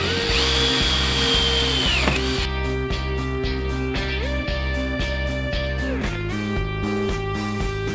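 A power drill whines steadily while boring holes in the struts of a Bedford CF van conversion, its pitch dipping and shifting as the bit works through, with short repeated pulses and brief drops in speed.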